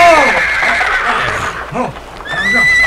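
A horse neighs loudly and close, a long quavering whinny followed by snorts and a second shorter whinny.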